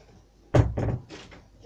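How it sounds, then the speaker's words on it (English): A door shuts with a single close thud, followed by a softer rattle and brief low talk in a room where a Lego set is being built. "Shut the door."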